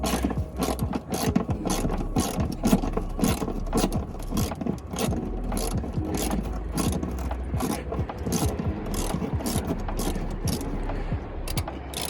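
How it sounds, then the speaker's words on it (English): Ratchet clicking steadily as bumper bolts are loosened on a 2013 Chevrolet Caprice PPV police car, rapid close metallic pawl ticks in bursts with brief pauses, no talking. "I got two bolts in here, right here, right there, and the same on the other side, and it should just come right out."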